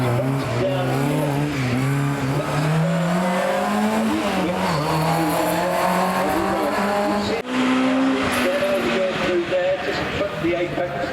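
A Ford Escort rally car brakes hard into a corner at a hill climb, its loud engine note dropping sharply as it slows, then revving back up with a hint of tyre squeal while a commentator talks.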